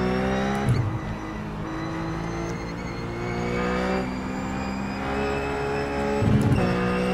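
Ruf Cup race car in the iRacing game at Phillip Island, engine droning steadily at high revs with pitch shifts through gears and a few brief bursts of tire noise, loud and uninterrupted.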